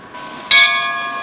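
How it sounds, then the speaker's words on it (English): A bell struck once in the video game BioShock Infinite, a loud, clear strike that rings on with a sustained metallic hum, heard alone. "I want to use the bell."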